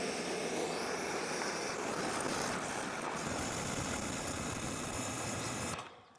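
A detailing pressure washer, either an AR630TSS or a BigBoi Washr Pro, runs steadily at about 950 PSI, giving a loud, continuous broadband hiss and rush that holds level and then cuts off sharply at the end.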